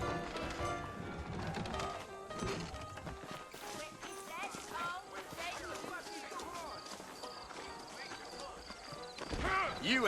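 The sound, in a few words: horses clip-clopping in Red Dead Redemption video game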